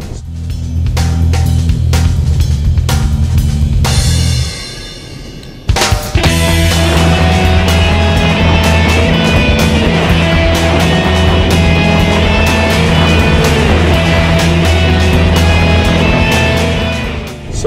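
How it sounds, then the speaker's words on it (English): A 2013 Ford Escape AWD being powered through a cone course in winter, its engine and drivetrain droning loudly and steadily, with a brief dip partway through before the sustained roar returns. "so just powering the vehicle through the turn"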